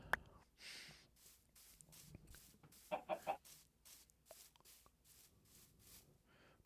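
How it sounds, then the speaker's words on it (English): Chicken clucking in a video game, a quick burst of three close clucks standing out over near silence, with a few fainter clucks and clicks scattered around. "Why do I hear a chicken? There's a chicken."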